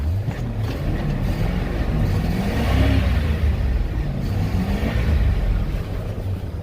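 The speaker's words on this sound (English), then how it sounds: "Let me rev it up for you." A 2003 Ford F-350XL utility bed truck with 103,000 miles, sitting unused for a while, its engine revved up and down close by in a loud, rumbling, continuous surge without talk.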